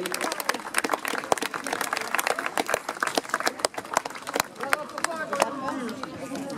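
An audience claps for six finalists at a Landes-style show held at Estibeaux, the sustained, loud applause mixed with crowd chatter and babble.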